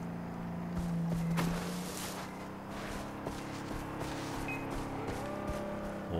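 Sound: car driving up, from the video game Far Cry 3

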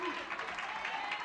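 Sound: bowling crowd applauding

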